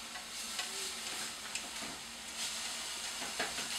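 Stuffed mushroom filling cooking in a pan, a steady close sizzle and hiss with occasional stirring scrapes, no voices.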